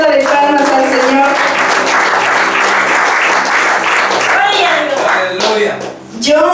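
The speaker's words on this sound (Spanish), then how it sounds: "Denle una ofrenda de palmas al Señor." A church congregation claps loudly and continuously in a dense, close wash of applause, with voices shouting and cheering over it before it thins out near the end.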